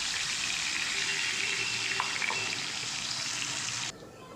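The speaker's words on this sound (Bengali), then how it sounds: "বাটা মশলার বাটিটা ধুয়ে জলটাকেও দিয়ে দিলাম।" Rinse water from a ground-spice bowl goes into a pan of hot oil for a katla fish curry, giving a steady hissing sizzle with faint splashy bubbling that drops abruptly to quieter frying at the end.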